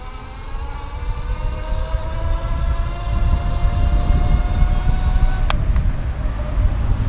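An IZIP E3 Zuma electric bike pulls away under throttle, its motor whine rising steadily in pitch over continuous road and wind rumble, with a sharp brief click near the end.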